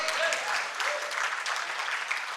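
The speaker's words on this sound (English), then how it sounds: "We need to give some hooting and clapping like that" Audience at a Regional Scrum Gathering talk in Hyderabad clapping and hooting, a dense steady burst of applause with a few whoops, filling the short stretch.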